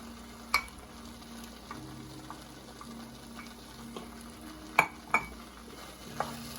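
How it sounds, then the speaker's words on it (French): Leeks and peppers frying in a pan for okra with salted fish: a soft, steady sizzle runs throughout, broken by a few sharp utensil clinks and stirring knocks. "je vais rajouter mes poireaux et mes poivrons"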